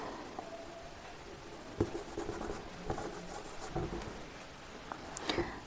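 Pen writing on paper during a trigonometry lesson, soft scratching strokes close by with a few sharper taps and scrapes scattered among them, quiet and alone.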